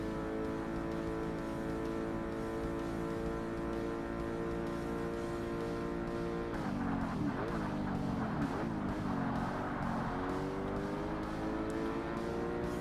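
Racing cars in Forza Motorsport, amateur American muscle cars on a track, with engines droning in a steady, loud, layered roar that shifts pitch as the pack brakes and accelerates through corners.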